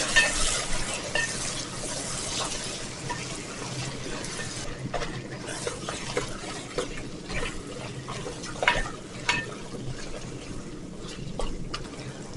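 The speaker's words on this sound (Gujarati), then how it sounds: "આપણું ઘી સરસ ગરમ થઈ ગયું છે. એમાં આપણે આપણા મટનને લઈ લઈએ. બધાને સરસ રીતે મિક્સ કરી દઈએ." Mutton frying in hot ghee is stirred steadily, with a close, continuous sizzle and repeated scraping strokes of a spoon through the pan, running alone without any talk.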